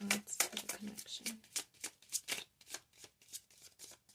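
Tarot cards shuffled by hand in a series of quick, crisp riffling bursts, repeating steadily and close up, with a faint voice murmuring briefly near the start.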